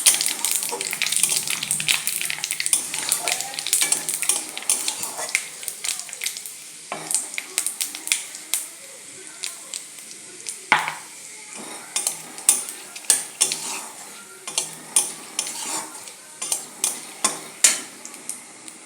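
Bay leaf and panch phoron spices crackle in hot oil for a Bengali potol, potato and katla fish curry, sizzling steadily up close with many sharp utensil clinks and taps, growing more frequent and rhythmic toward the end.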